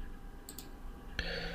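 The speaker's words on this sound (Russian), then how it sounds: "Далее мы кликаем на кнопку" A single mouse click on an on-screen button, heard as a sharp, close tick against faint background hum, with a couple of softer clicks just before.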